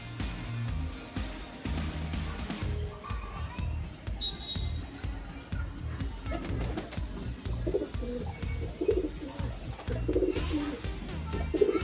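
Pigeons cooing close by in a loft, repeated low throaty coos in an uneven rhythm, with flapping, shuffling and scattered knocks around them.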